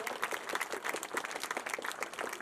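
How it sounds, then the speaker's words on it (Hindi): An audience at a school annual function claps, giving dense, steady applause with no pause. "बच्चों के लिए आपकी तालियां बहुत बड़ा पुरस्कार है"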